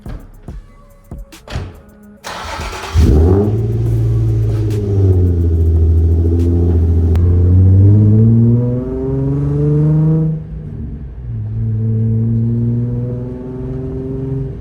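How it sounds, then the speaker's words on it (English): A car on new coilovers starts up and rumbles steadily, revving up and down as it drives off, loud and close. "Now let's drop the car down and take it for a spin."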